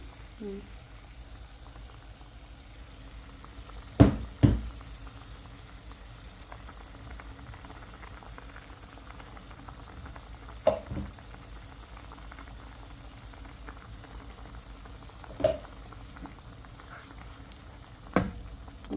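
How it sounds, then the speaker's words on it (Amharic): Thick shiro stew bubbling in a pot gives off sparse, soft plops and pops every few seconds over a quiet, low simmering background. "ገና ሳልመታት መንተክተክ ጀምራለች"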